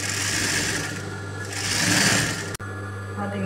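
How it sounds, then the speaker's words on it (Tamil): A sewing machine stitches along the edge of folded fabric with a continuous close mechanical whir, briefly breaking off before running on again. "மடிச்சுட்டு அப்படியே மிஷினில் வச்சு இந்த ஓரத்தை மட்டும் தையல் வைக்கணும்."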